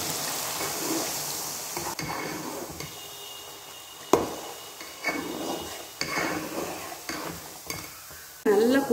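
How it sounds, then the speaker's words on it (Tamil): Amla and herbs fry in hot oil for a homemade hair oil, giving a steady soft sizzle with occasional stirring scrapes and pan clinks at close range. "நல்லா கொதிக்க ஆரம்பிச்சிருச்சு."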